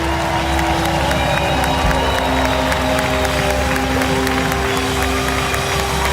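An audience in a large church event hall applauds and cheers loudly and continuously, with a sustained musical tone ringing beneath the crowd noise.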